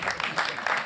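Audience applause at a December 2023 business conference on corporate responsibility, digitalisation and decarbonisation: a short, dense burst of steady clapping from the room, filling under a second.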